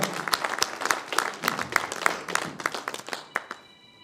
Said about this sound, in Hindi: जोरदार तालियां बजा दीजिए भैया